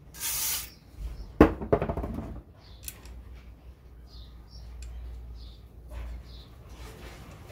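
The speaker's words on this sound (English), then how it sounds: "so we'll take that out and give it another spray" Cleaner is sprayed into a Heiniger Cyclone clipper handpiece during a rebuild, a short hissing spray burst at the start followed by handling clicks and rattles, then quieter fiddling sounds.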